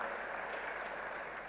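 An audience applauds at the inauguration of a large digital entertainment festival in Hyderabad, a brief, dense, fairly faint burst of clapping that holds steady.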